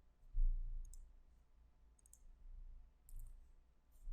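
Faint, sparse clusters of computer keyboard keystrokes click at a quiet level, separated by pauses, with no talking.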